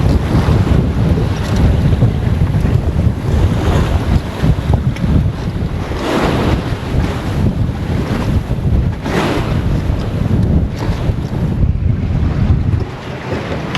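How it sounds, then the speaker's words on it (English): Squally wind roars across the microphone aboard a sailboat in big weather, with waves rushing and sloshing beneath it, loud and continuous throughout with no talk. "And this morning it's just squally."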